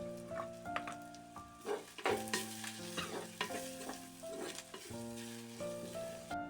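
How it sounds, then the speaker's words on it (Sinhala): Soft, crackling sizzle of chili powder frying in a little hot tempering oil. It stays quiet and continuous beneath gentle background music. "ඊට පස්සේ මම මිරිස් කුඩු ටිකක් දාලා චුට්ටක් ටෙම්පරාදු වෙන්න දෙනවා."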